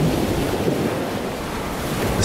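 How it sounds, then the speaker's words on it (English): Ocean waves break on the shore of Ipswich Bay, Massachusetts, a steady broadband wash of surf roaring without pause, with wind buffeting the microphone throughout and no voices. "The sound of the waves crashing on shore?"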